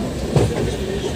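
A passenger train running from Lokmanya Tilak Terminus toward Visakhapatnam during heavy rain gives a steady loud rumble with a brief clack of the wheels, heard from on board, with no talking.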